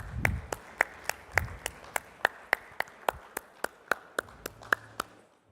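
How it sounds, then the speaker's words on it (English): Applause at a fintech festival stage event comes as a sparse, even run of single claps, about three per second, crisp and close, tapering off toward the end with no voices over it. "A big round of applause"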